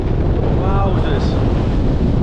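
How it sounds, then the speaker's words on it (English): Gale force wind gusts buffeting the microphone high in the Langdales fells, a loud, continuous roaring rush with surging gusts and no letup. "I'm getting out of the wind."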